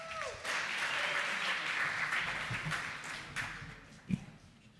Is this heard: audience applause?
yes